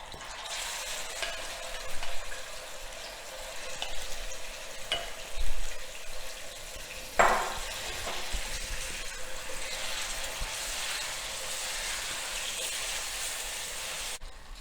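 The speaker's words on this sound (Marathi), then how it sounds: "आता ह्यामध्ये आपण चिकनचे पीसेस टाकायचे आणि चांगले रोस्ट करून घ्यायचे" Chicken pieces roast in hot ghee in a pan with a steady, bright sizzle and crackle. A few scraping stirs and an occasional louder splutter break through the continuous frying noise.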